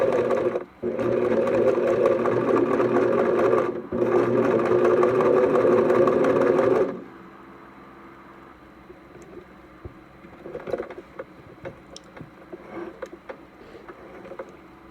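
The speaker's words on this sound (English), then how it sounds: "I would sew, making sure I keep my fabric right parallel, right under this presser foot" A sewing machine runs steadily and loudly, stitching fabric under the presser foot, with two brief pauses early on. It stops after about seven seconds, leaving only quiet handling clicks and rustles.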